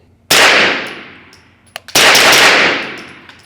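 Two loud, close pistol-caliber carbine shots from a Springfield KUNA or MP5 at an outdoor range, each with a sharp crack and a long ringing echo that fades, with faint metallic clinks between them.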